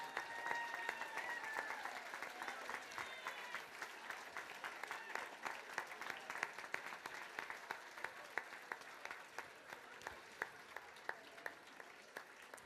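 Sustained applause from an audience at the LGFA ladies' Gaelic football All-Stars awards night, greeting the nominees and All-Star team; steady dense clapping throughout with a few sharper claps standing out, at moderate level, without speech.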